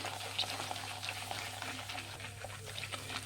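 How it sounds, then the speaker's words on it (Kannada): Two tablespoons of chana dal frying in a pan over a medium flame, giving a soft, continuous bubbling sizzle with faint pops over a low steady hum. "ಒಂದು ಟೂ ಟೇಬಲ್ ಸ್ಪೂನ್ ಕಡಲೆಬೇಳೆ ಫ್ರೈ ಮಾಡಬೇಕು"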